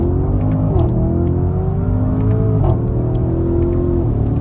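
An Audi SQ8 engine revs hard in first gear and climbs in pitch, with a brief dip as it accelerates, loud and close, a steady throaty roar.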